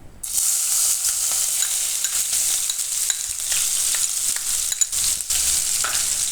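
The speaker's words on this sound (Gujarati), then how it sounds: "તો તેલ આપણું ગરમ થઈ ગયું છે, એમાં આપણે નાખીશું પહેલાં આદુ ને મરચાં" Ginger and green chillies hit hot oil in a pan, bursting into a loud, steady sizzle that crackles on without pause, with a few faint spoon stirs and scrapes breaking through near the end.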